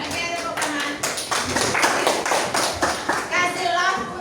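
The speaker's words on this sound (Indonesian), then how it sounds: "tepuk tangan" A classroom of students claps their hands together, a close, lively burst of uneven clapping and tapping mixed with children's voices talking over it.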